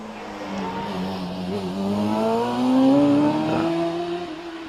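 A Jedi race car fitted with a GSXR motorbike engine climbs a club hill climb course, the engine screaming higher and higher through the gears, growing louder as it nears and then easing away, with no talk.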